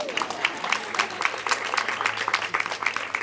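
Applause rises at a talk about a dance law, with a modest audience clapping in a light, uneven patter of individual claps that sound fairly close.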